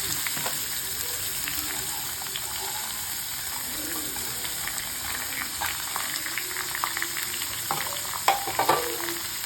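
Onions sizzle steadily in oil in a pan for raw banana puttu, a continuous close hiss with a few sharper crackles and scrapes near the end, no voices.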